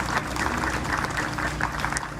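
A crowd at a Veterans Day ceremony applauds steadily, many hands clapping together in a dense, sustained wash of sound.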